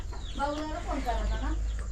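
A chicken clucks several times in quick, rising calls, fairly close, over a low background rumble.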